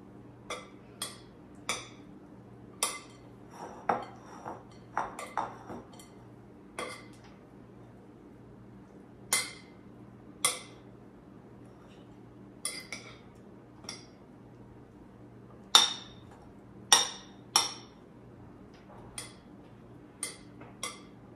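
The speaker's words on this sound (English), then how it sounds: "We're just going to mix everything up." A spoon mixes quinoa and black bean filling in a bowl, giving sharp, irregular clinks and taps against the bowl, close and fairly quiet, separated by brief pauses, with no talk.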